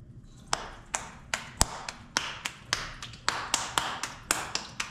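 Hands patting and slapping soft arepa dough made of flour and water in a home kitchen, a steady series of sharp, close slaps with short gaps, fairly loud and clear over quiet background.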